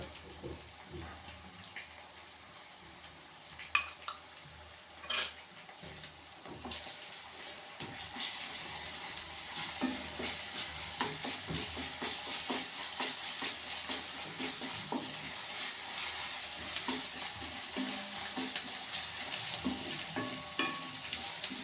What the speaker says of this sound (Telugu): చక్కగా ఉల్లిగడ్డలు కూడా మంచిగా వేగినాయండి